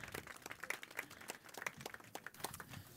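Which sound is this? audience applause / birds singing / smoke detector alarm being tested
audience applause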